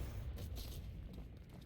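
A bomb detonates in the medieval combat game Mordhau on the small Dungeon map, a deep rumbling boom with a few sharp bursts early on, fading into a low sustained roar.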